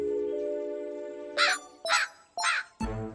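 Cartoon crow in a kids' atomic-themed cartoon gives four loud, harsh caws in a row, evenly spaced over a sustained musical chord, the last one landing on a low thump.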